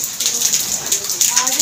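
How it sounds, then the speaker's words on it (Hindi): Rain begins falling outdoors on a cold morning near a temple, a close, dense patter of drops on surfaces, with someone talking over it. "बारिश शुरू हो रही है।"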